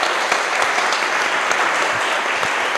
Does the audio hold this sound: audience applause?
yes